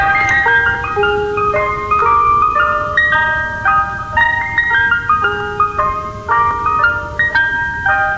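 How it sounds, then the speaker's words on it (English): Ice cream truck arriving, its loud tinkling chime melody playing continuously in a bright, repeating tune with no talk. "here she is, arriving in her ice cream truck"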